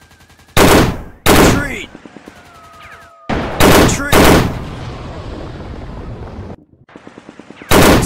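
Heavy gunfire in the War Games Modern Commando shooter: loud, close bursts of automatic fire crack out repeatedly over a rumbling battlefield background, and a voice shouts a command between the volleys.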